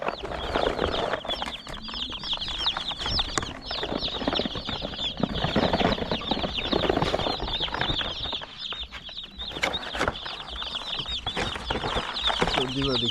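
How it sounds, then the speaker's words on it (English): A crowd of broiler chicks cheeps continuously and loudly up close during a transfer, a dense, overlapping chorus of high peeps with occasional rustling and wing flutters, and a voice speaks briefly under it. "So these are the chicks, the broilers."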